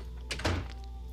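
A locked door in the Oblivion video game gives a single short, dull thunk with a brief rattle as it is tried. It sounds close and fairly quiet against a steady low background hum.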